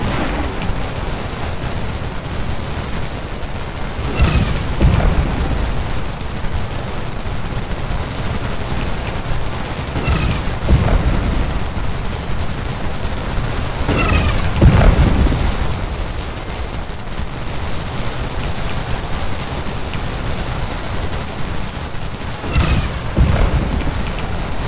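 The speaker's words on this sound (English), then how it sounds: "under fire from shell, canister, and rifle fire, and they begin to break" Battle din from the Gettysburg game Scourge of War, with shell, canister and rifle fire rolling continuously as loud crackling volleys and booming bursts swelling at intervals over a dense, noisy bed.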